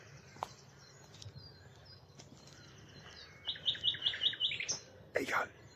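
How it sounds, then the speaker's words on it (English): A nightingale sings outdoors at marshland in the early morning, a rapid run of repeated chirping notes that rises briefly out of quiet ambient background, moderately distant. "Oh, that was definitely a nightingale then."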